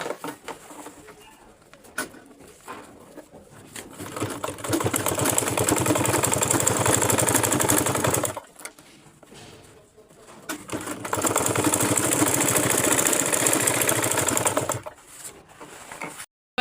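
Sewing machine stitching fabric downward along a V section, two long loud runs of fast steady whirring separated by a brief pause, with quieter low activity before the first run.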